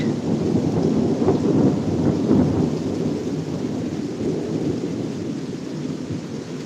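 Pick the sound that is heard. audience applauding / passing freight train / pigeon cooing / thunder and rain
thunder and rain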